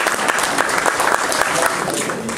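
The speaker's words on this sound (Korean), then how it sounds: "오늘 우리 강용대 처장님을 비롯한 우리 장애인체육회에 있는 분들 정말 수고했다 한 박수 한번 쳐주시면 감사하겠습니다." An audience claps steadily, a dense burst of applause filling the room with no one speaking.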